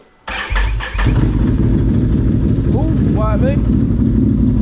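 Four-wheeler engine cranking in cold snowy weather on a farm, a few sputtering turnover bursts that catch into a steady loud idle close by, with someone speaking over the running engine.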